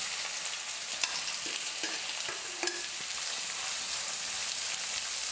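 Finely chopped medium onions with garlic and a little salt sautéing in hot oil, a dense continuous sizzle with a few light spoon taps and scrapes through it.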